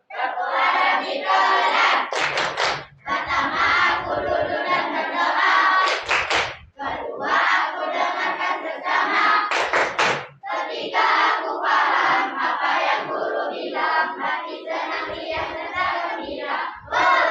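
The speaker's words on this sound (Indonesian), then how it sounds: "Sekarang lanjutkan ke tepuk adab" A class of Islamic school pupils performs the tepuk adab clapping chant in a classroom, loud unison voices with rhythmic group claps in short bursts, repeated across the whole passage.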